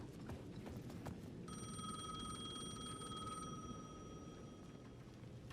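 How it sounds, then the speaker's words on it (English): A payphone rings in the video game Alan Wake 2, one sustained electronic bell tone lasting about two seconds, set against a steady ambient hum and a few faint clicks. "The payphone at the edge of the plaza was ringing again."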